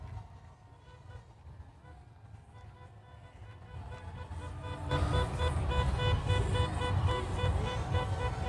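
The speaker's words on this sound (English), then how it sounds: "We got horn honking and balloons." Car horns honk at a pride parade, several tooting blasts rising over a busy street crowd and traffic, louder and more frequent in the second half.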